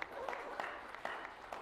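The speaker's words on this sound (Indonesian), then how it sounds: "tepuk tangan ya." A business company gathering in Indonesia, where the audience gives a short round of applause: scattered individual claps stand out over a softer crowd wash, fairly faint, with a voice briefly mixed in.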